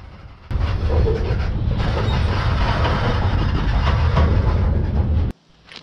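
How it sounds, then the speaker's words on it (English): A freight train rumbles steadily along the tracks through Baltimore, a dense continuous roar with faint rhythmic clatter, loud and close, cutting off abruptly near the end. "The train is going through Baltimore right now"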